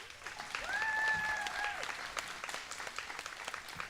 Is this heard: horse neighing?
no